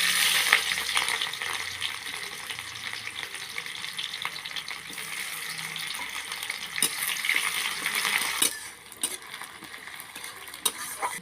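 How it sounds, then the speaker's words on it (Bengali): Chopped onion with dried red chillies, a little sugar and cumin frying in hot oil in a home kitchen pan for a fish curry; a steady, close crackling sizzle with occasional stirring scrapes and clinks, no talking. "পেঁয়াজটা লাল লাল করে ভাজা হয়ে গেছে।"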